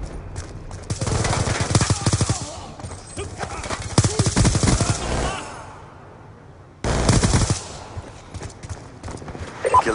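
Rapid gunfire rattles in the video game Call of Duty Black Ops 2, dense automatic bursts of loud close shots broken by a short pause, mixed with game sounds and some voices.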